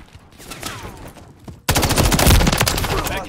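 Gunfire in the video game Call of Duty: a quieter stretch of distant shots suddenly gives way to loud, dense automatic fire that keeps hammering to the end.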